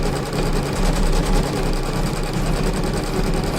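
A computerized embroidery machine stitches a crosshatch pattern onto a rope bowl held in stabilizer, giving a loud, steady, fast mechanical whir with a rapid repeating needle rhythm throughout.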